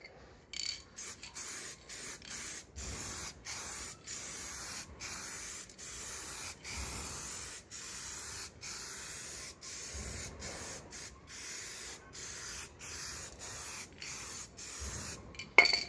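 Spray gun applying paint and lacquer to the sill of a Peugeot 309 during rust repair, a continuous close hiss in repeated bursts broken by short pauses.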